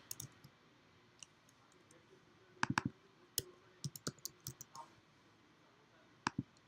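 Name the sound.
computer mouse clicking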